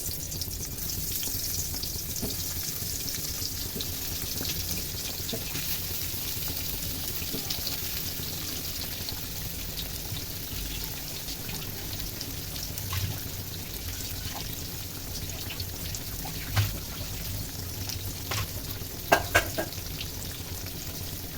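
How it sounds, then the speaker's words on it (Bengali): Stuffed pointed gourd (potol), split and hollowed, fries in oil with a constant close sizzle and bubbling for the whole stretch, broken by a few brief clinks near the end. "এটা আমি ভেজে নেব"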